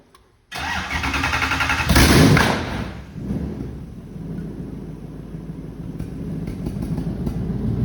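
Mazda MX-5 fitted with a V8 cranks with a short whirr, then bursts into a loud roaring start and settles to a rough, steady idle nearby, no voices over it.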